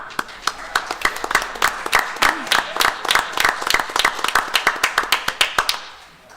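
A small audience at a Board of Education meeting claps for an award, with sharp, uneven hand claps close by that build into steady applause and then fade out near the end.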